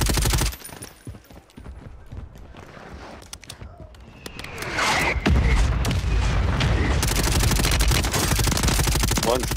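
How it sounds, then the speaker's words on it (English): Mortar strike explosions and rapid gunfire in a shooter video game with a RAM-7 and KATT sniper, scattered shots at first, then a loud sustained barrage of booms and automatic fire, with players talking over it. "Just got mortar striked."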